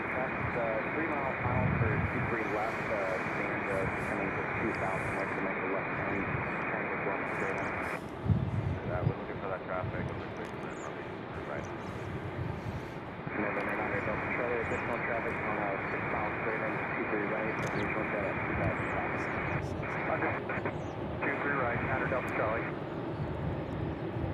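A JetBlue airliner at Raleigh-Durham International Airport makes a steady, loud engine roar that runs nearly the whole time, with brief shifts in tone, while a voice talks over it.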